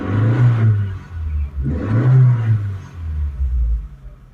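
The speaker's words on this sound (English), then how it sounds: "that engine purrs." A 1986 Nissan Pulsar NX engine revs up and down in repeated swells, a close, smooth rumbling purr rising and settling three times.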